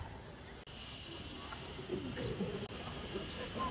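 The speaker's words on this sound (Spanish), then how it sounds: "Aquí tienen palomas premium." Pigeons coo in a European street, soft low murmuring calls in the mid range over steady outdoor background noise, fairly faint and continuous without any talk.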